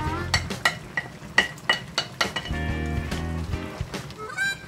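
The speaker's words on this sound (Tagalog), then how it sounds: "So, haluin natin." A utensil stirs pechay, egg and lomi noodles in a pan with a quick, rhythmic run of metallic clinks and scrapes, close up. A soft sizzle sits underneath.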